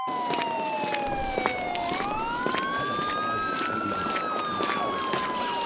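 A police car siren wails steadily with sweeping rising and falling tones over a busy, noisy background.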